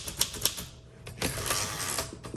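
Typing on a 1946 Smith Corona Silent manual typewriter: a burst of close, crisp key strikes, a short pause, then a denser run of clacking keys with mechanical rattle.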